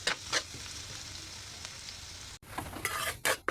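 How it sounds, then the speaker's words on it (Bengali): Green chilies and onions fry in hot oil with a continuous sizzle, punctuated by several bursts of stirring and spatula scrapes, close up and without speech. "তেলটা গরম হয়ে গেলে এখানে দেবো কাঁচা লঙ্কা, পেঁয়াজ, এগুলো ভালোভাবে ভেজে নেব।"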